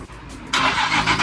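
A Nissan 350Z with a suspected sticking throttle body cranks and fires up, with a brief quiet start and then a loud, close engine roar that continues steadily.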